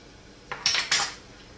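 Sugar and active yeast stirred in a bowl to dissolve for siopao asado dough, a few quick metallic clinks of a utensil against the bowl, close and fairly soft, with no talk.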